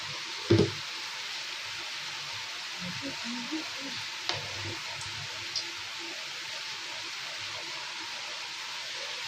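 Chopped onions frying in melted sugar in a pan, a steady soft sizzle throughout with a few faint clinks of a utensil, the first one louder.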